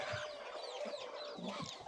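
Hens cluck softly and steadily from close by in a free-range poultry shed while brooding on clutches of eggs, with scattered higher bird calls over a constant low background.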